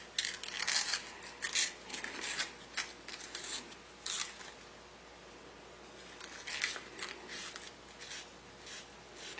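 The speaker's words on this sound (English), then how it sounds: "400 grit and just deburr the inside and the outside a little bit." Sandpaper of 400 grit rasps over a part as it is deburred inside and out, in short scratchy strokes of uneven length that cluster in bursts with quieter pauses between them.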